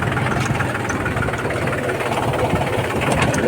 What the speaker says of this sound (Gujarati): કેમ ટ્રેક્ટરને ટર્ન વાર દેવાનું